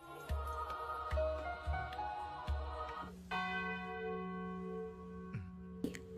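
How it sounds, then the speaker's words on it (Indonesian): A midnight bell tolls in slow, spaced strikes, each ringing out with a long resonant decay, then a final sustained bell tone hangs in the air; fairly clear and unaccompanied by voices. "Bel tengah malam pun berbunyi."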